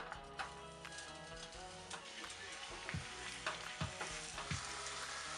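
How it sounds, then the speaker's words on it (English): Fish frying in oil in a medium-hot pan, a faint, continuous crackle with small popping ticks scattered through it, heard close and without any talk. "Now I'm just heating up the pan to medium hot, putting some oil on it. Then I'm gonna fry the fish."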